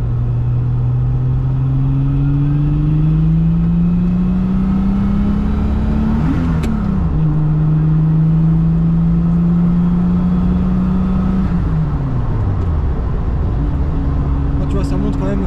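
A Venturi 260LM turbocharged French GT sports car accelerates hard through the gears, engine pitch climbing in long sweeps with sharp drops at each shift, loud and close from inside, with someone talking over it.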